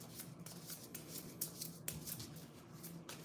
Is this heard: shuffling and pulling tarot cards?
yes